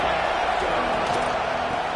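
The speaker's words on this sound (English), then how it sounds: "This crowd trying to make life miserable for this offense." Stadium crowd noise from a football video game, a steady dense roar that fills the whole stretch at an even level with no breaks.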